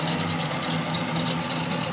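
A 1965 Chevrolet Impala engine idles steadily after a replacement radiator install, a close, continuous low throbbing rumble with an even mechanical pulse and no talking.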